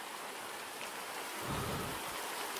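Heavy rain pours during a thunderstorm over a flooded yard beside a pigeon loft, a dense steady hiss with a low rumble of thunder swelling partway through, with no talk.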